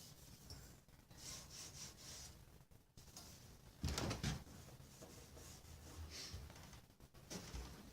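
Paste wax rubbed with a balled-up rag across the metal bed of a planer, giving a steady, close scraping rub with brief pauses between strokes.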